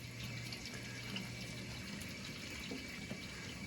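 A GE dishwasher runs its cycle with water leaking from the pump seal, giving a steady, close rushing and trickling of water with a low hum running beneath it, no voices present.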